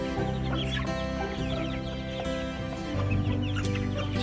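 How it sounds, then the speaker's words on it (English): Cornish meat chickens and Isa Brown laying hens clucking together in a flock, a busy chorus of soft clucks and chirps over a steady background hum, fairly close and without talk. "39 Cornish and 32 Isa Browns. Cornish are the meat chickens and the Isa Browns are the egg layers."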